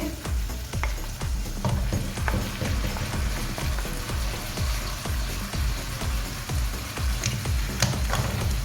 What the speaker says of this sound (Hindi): इसको भी हम भून लेंगे तकरीबन 3 से 4 मिनट के लिए, ताकि ये भी अच्छे तरीके से जो है गल जाए चिकन के साथ।